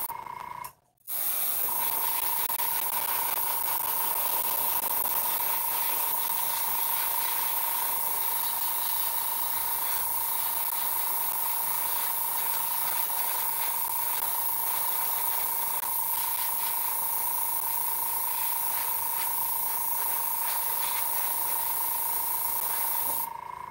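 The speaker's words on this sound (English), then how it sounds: "we can use just a little bit of compressed air from the airbrush to let" An airbrush releases a continuous, close hiss of compressed air to dry paint on a propeller, starting after a brief silent pause and holding steady with a faint high whine.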